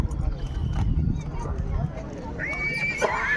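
Horses at a horse show in Wankaner, with a low rumbling backdrop of hooves and crowd murmur and a clear, loud whinny rising and quavering near the end.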